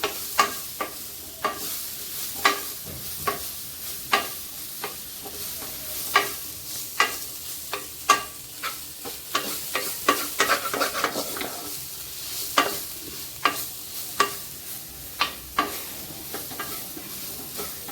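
Grated coconut with turmeric, black pepper and cumin is dry-roasted in a pan, a soft sizzle beneath regular, repeated scraping strokes of a spoon stirring the mixture, close and steady.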